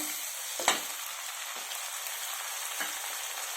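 Vegetables such as beans and potatoes frying in a pan for tawa pulao, a steady close sizzle with a few soft spatula scrapes and taps, no voices.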